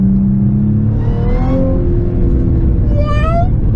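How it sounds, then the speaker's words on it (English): Supercharged Audi S4 engine droning loudly up close, its pitch sliding and rising through downshifts with a whining supercharger tone over a deep rumbling exhaust. "Oh, I love that supercharged noise."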